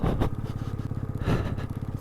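A motorcycle labors up the snowy off-road climb of Shinkula Pass, its engine thrumming in a low, even, pulsing drone with a couple of brief surges, close and continuous, no voices over it.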